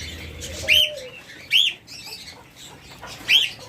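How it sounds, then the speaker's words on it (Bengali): Caged pet birds at a seller's stock, including lovebirds, cockatiels and budgerigars, give three sharp, loud chirps spaced about a second apart over a quieter bed of background twittering. "আমাদের কাছে রয়েছে হিউজ পরিমাণ লাভবার্ড পাখি আমাদের কাছে পাবেন অসংখ্য ককাটেল পাখি"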